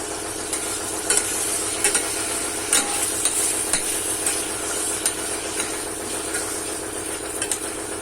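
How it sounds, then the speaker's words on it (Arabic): Liver and gizzards sizzle in ghee while a spoon stirs and scrapes the pan, a continuous close frying hiss broken by small irregular clinks of metal, with no talking. "دي الكبده اللي احنا نزلناها، بنديلها بس تقليبه وننزل جنبها كده بالقوانص اهي"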